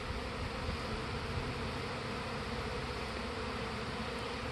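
A swarm of bees drones continuously as the bees return to their hive, a soft, even buzz heard at a distance and low in level.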